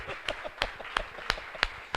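A church congregation claps during a Portuguese-language service, a series of sharp, evenly spaced claps roughly every third of a second, close and crisp over a low murmur.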